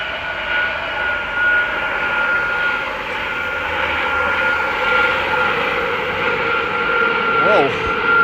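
An airplane roars overhead at night in Amsterdam at Halloween, a loud steady engine drone that lasts throughout and stays close, with a brief voice near the end.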